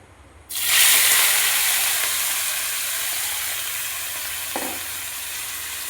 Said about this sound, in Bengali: তেলটা গরম হয়ে গেছে। এখন আমি ম্যারিনেট করে রেখেছিলাম মাংসটা, এখন আমি ঢেলে দিচ্ছি।